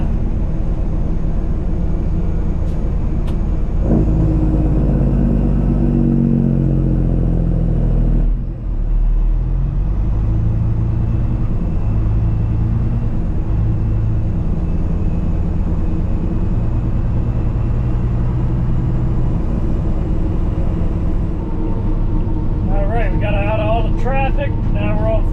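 Inside a truck cab on Interstate 476 through a construction lane closure, a constant low engine and road rumble drones under intermittent passing-vehicle swells, with a brief chirpy burst near the end.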